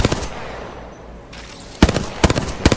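Automatic weapon fire in the battle royale shooter Apex Legends, sharp broadband bursts cutting in sporadically over a low rumbling game ambience, several quick clusters of shots near the end.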